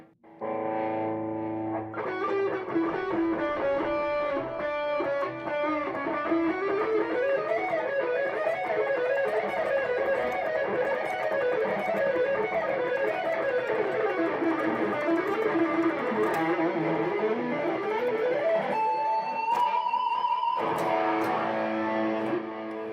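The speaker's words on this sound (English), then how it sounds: "I got my delay set so freaking high. It just keeps ringing out." Distorted electric guitar played through a heavy delay effect, sustained notes and sliding phrases smearing into long ringing repeats, loud and continuous with no talk.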